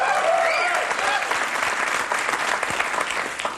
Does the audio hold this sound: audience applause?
yes